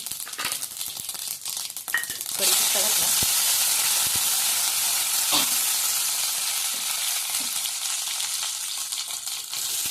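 Cumin and mustard seeds sizzle in hot ghee for a moong dal khichdi tempering, a bright hissing crackle that swells after a couple of seconds and stays loud and close, with faint clinks.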